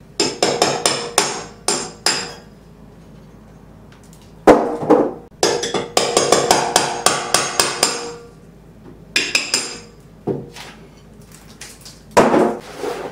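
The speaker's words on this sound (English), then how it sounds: "Hammer and a pry bar." Sharp hammer and pry bar blows ring out in quick bursts, prying and knocking at hard shower tile, with clinking debris between clusters of strikes and brief pauses.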